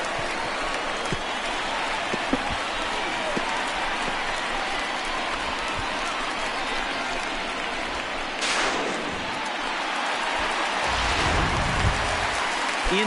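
A baseball home crowd at a Nationals–Phillies game cheers and applauds after a triple, a dense, sustained roar of claps and voices filling the ballpark throughout.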